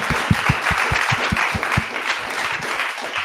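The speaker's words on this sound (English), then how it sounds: "Can we have a round of applause for Farah?" An audience at a founders' networking talk applauds steadily, a dense, fairly close wash of many hands with a few heavier claps standing out, alone without speech.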